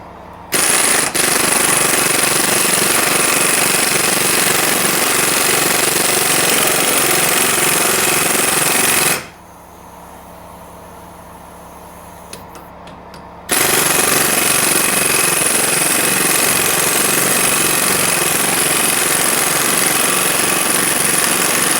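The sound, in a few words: loosening lower ball joint nut on Chevy Silverado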